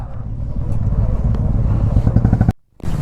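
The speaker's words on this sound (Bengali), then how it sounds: "সো ফাইনালি সব গাড়ি বেরোচ্ছে, এবার বেরোবো।" Group of motorcycles starting off together on a bike trip in hilly North Bengal, engines idling and rumbling loudly with clattering and revving, then a brief drop to near silence before the engine noise returns.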